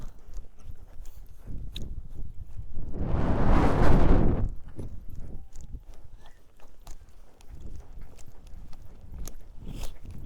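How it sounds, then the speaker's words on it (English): Horse hooves trot around a circle in a rhythmic clip-clop, with a louder rushing burst of wind or movement partway through, close and steady with no talk. "Come up here and trot this"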